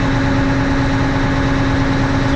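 The engine of a Tadano 180G-5 crane idles at high throttle with a steady, even drone and a constant vibrating hum, loud and close, with no voices.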